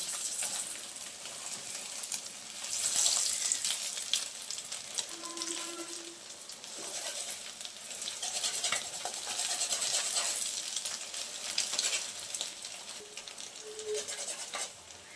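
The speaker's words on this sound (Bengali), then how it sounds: "আর এখন আমি খুন্তি দিয়ে ডিমটা পিস করে নেব ছোট ছোট করে" Egg omelette frying in a pan and being cut into small pieces with a metal spatula: steady sizzle with scattered scrapes and taps, close and moderately loud, with no talking.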